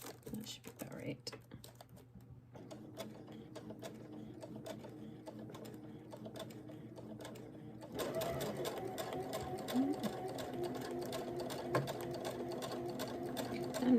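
A sewing machine runs a close, steady stitching line to the end of a seam, then finishes with a short back stitch. Soft voices and handling noise come first, and the machine grows louder in the second half.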